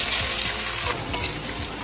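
Capsicum and other vegetables fry in hot oil for fried rice, giving a steady close sizzle with two brief sharp pops and no talk.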